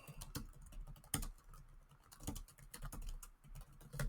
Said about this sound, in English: I'm typing in trivia questions.